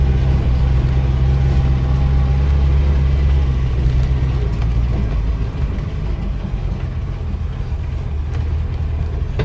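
A 1972 Range Rover drives along with a steady low engine rumble and drone, loud and close, easing slightly partway through, with no whine from the transmission standing out and no talk.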